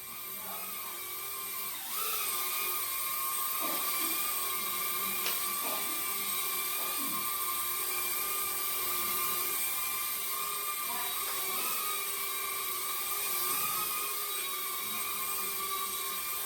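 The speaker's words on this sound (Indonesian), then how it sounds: "Coba kita tes langsung bagaimana kestabilan daripada drone bola ini." A steady high-pitched motor whine drones continuously from a toy ball drone hovering nearby, like a small buzzing propeller aircraft, with faint background noise and brief clicks.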